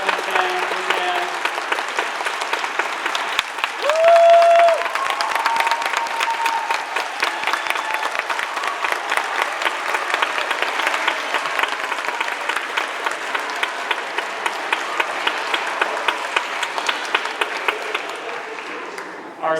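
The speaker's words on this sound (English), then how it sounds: "So, a round of applause for your amazing teachers." At a school graduation ceremony, a large audience gives teachers long, steady applause, with dense clapping, a few louder claps and brief cheers, continuing at an even level for about twenty seconds.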